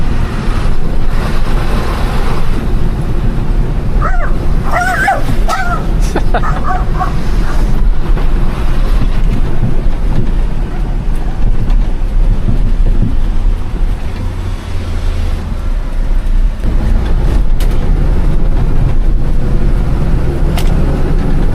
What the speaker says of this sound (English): Truck sounds much more smooth and powerful.